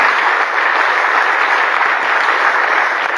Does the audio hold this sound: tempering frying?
no